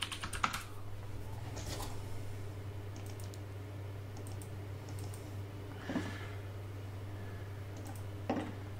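Login and password are typed on a computer keyboard, with scattered bursts of key clicks and a couple of sharper taps over a steady low electrical hum, close and fairly quiet, with no speech.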